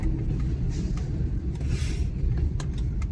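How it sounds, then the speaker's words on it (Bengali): A freight train runs alongside the Farakka Barrage, heard from a car crossing the barrage at night, a continuous heavy low rumble with faint rattling throughout. "যাই হোক, মালগাড়ি গেল এই অনেক।"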